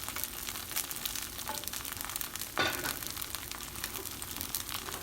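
Banh xeo batter frying under a lid in a pan: a quiet, steady sizzle with soft crackles, a sharper clatter at the midpoint and faint scattered ticks.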